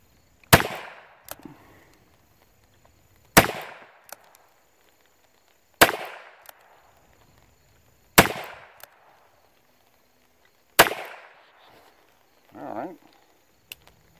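Revolver shots from a Wrangler and a Rough Rider, fired outdoors as five loud, sharp cracks spaced a few seconds apart, each trailing off with a brief echo, with a faint clatter between.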